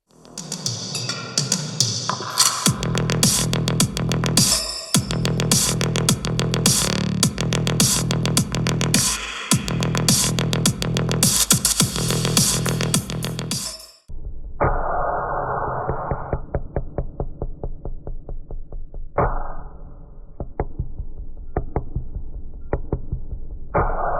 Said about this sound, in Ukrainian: Динамік зараз грав від магнітоли з DSP процесором, баси дійсно є